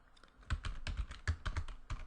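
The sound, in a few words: typing code on a computer keyboard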